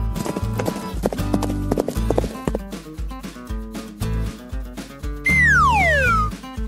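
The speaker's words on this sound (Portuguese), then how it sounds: "Ué, cadê o cavalo?" Horse hooves clip-clop in a quick, regular rhythm over cartoon-style music, ending in a loud whinny with a sliding whistle-like tone.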